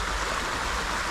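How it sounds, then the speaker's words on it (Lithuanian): A mountain stream in the Polish mountains, found at a campsite, flows with a steady, loud, close rush of water. No voices are heard. "Čia kaip tik upelis."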